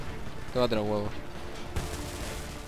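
Gunfire in the shooter Homefront: a loud burst of shots cracks out near the end, following someone speaking over the quieter battle noise.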